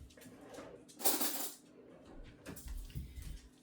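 A spoon is grabbed in a home kitchen, producing close metallic clinks and rattles of cutlery, one sharper bright clatter in the middle and softer knocks and rustling afterward, with no talking.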